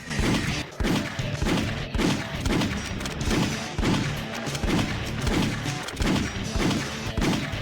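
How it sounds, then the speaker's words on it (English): Gunshot effects from a GameCube Sonic video game fire in a steady, rhythmic series, more than a dozen sharp blasts spaced about half a second apart, loud and close, with a busy game soundtrack filling the gaps. "Anytime you select anything, the game plays a gunshot sound."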